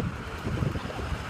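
Wind blows on a sunny day outside an Asian market, buffeting the microphone as a constant roaring rumble with no speech.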